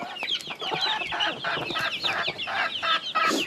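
Chickens clucking in a steady, busy chorus, close by, with repeated short calls overlapping one another throughout.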